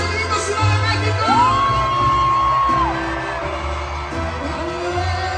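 A large arena crowd at a concert in Mexico City shouts, whoops and cheers in a loud, continuous roar, with one long sustained yell rising above the noise.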